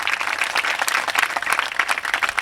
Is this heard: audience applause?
yes